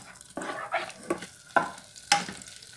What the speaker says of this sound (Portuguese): Agora eu venho com a cebola. Vou dar uma refogada até ele amolecer.